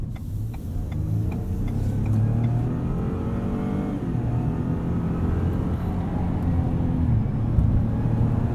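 A 2021 Ford F-150 PowerBoost Hybrid pickup accelerates in sport mode. The engine drone is loud and continuous and rises in pitch as the truck gathers speed, heard from inside the cab.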